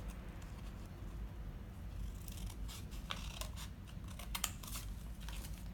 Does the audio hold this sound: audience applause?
no